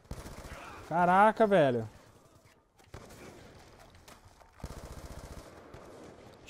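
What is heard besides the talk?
gunfire in video game Black Ops 2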